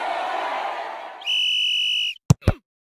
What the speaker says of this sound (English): The referee has blown the final whistle.